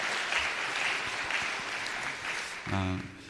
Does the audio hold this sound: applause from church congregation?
yes